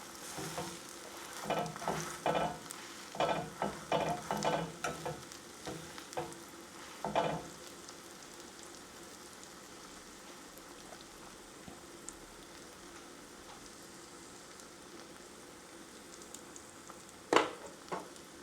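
A buttermilk pancake sizzles in a pan right after being flipped, a soft steady frying hiss with a cluster of scraping and clattering handling noises early on and one sharp clink near the end.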